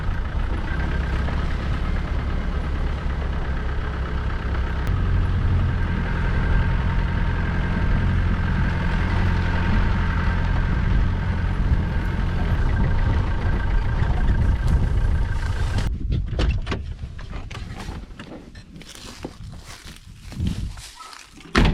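A vehicle driving down a roughly 300-metre farm track on rural land in central Portugal, with a steady engine drone for most of the run, then bumps and rattles as it slows near the end.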